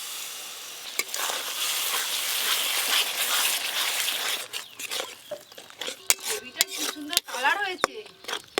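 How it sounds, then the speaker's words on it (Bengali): Masala paste of poppy seed and cashew fries in a pan with a loud, bubbling sizzle that fades into clinks and scraping stirring, with someone talking near the end. "এবার পোস্ত আর কাজু বাদাম বাটা দিয়ে ভালো করে কষিয়ে নেব"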